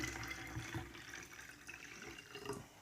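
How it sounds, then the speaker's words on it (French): Water pours into homemade fabric softener to dilute it, a steady close splashing and trickle that runs throughout with slight swells in level. "Ensuite, on met de l'eau pour diluer un peu."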